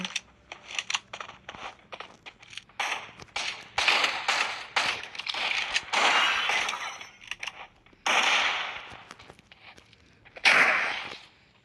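Gunfire from the video game Free Fire Max rings out in a string of sharp, bright bursts, some rapid and some spaced apart, loud and close with no talk.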